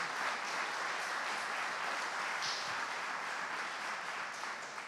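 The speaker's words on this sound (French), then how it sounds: "Vous pouvez l'applaudir" Steady, dense applause from a conference audience after a scientific keynote talk, continuous and fairly loud for the whole stretch with no voices over it.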